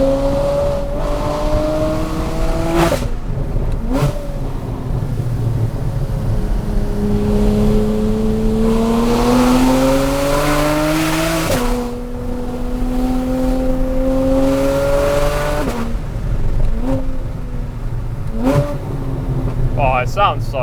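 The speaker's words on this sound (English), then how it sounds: "I've got this exhaust from Ninemeister as well." Porsche Cayman fitted with a Ninemeister aftermarket exhaust, loud and close, with repeated rising revs through gear changes, each pull climbing then dropping sharply, continuous over about twenty seconds.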